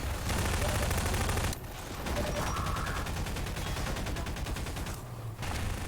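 Half-Life 2: Deathmatch gunfire: dense, rapid bursts of automatic shots ring out nearly continuously, loud and close, with a brief pause partway through, no talking.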